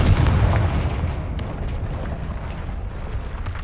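A Confringo fire spell bursting in Hogwarts Legacy: a loud, close explosive boom at the start that rumbles and slowly fades, with fainter crackles trailing off.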